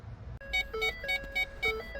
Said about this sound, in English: right now it's beep, beep, beep, beep. I'm in reverse